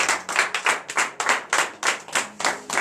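A congregation at a morning prayer service in Benin claps hands in acclamation, about a dozen sharp, evenly spaced claps close by with almost no voices.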